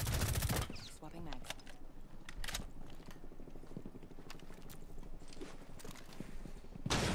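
Gunfire from a gun in the Rainbow Six Siege video game, with loud rapid bursts at the start and end and scattered single shots between them over game noise.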